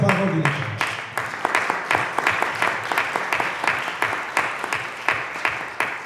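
Church congregation applauding steadily, a dense wash of many hands clapping at close range with a few sharper individual claps punctuating the rhythm, with no speech over it.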